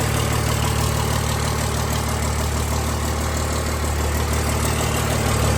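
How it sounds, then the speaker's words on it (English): A 1000 HP Cummins diesel engine with a hood stack idles loudly and steadily up close, a constant rumbling drone with no talk over it. "She's idling good."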